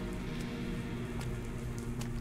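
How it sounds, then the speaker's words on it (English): Quiet, steady rainfall from The Operator video game, a faint even patter over a low background hum, with occasional brighter drip sounds. "It's raining."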